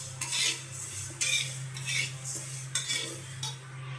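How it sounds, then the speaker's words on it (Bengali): Moong dal being stirred and fried in a pot for khichuri in a caterer's kitchen, with repeated metal scrapes of a spoon against the pot in an uneven rhythm over a low steady hum, fairly close and without talk. "আর এদিকে খিচুড়ির জন্য মুগের ডাল ভাজছি।"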